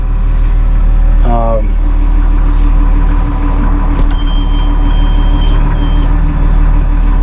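A Massey Ferguson 7S.155 Classic tractor with Dyna6 semi powershift idles close by with a steady, loud diesel drone, plus a brief chirp and a few faint clicks, while a person talks over it.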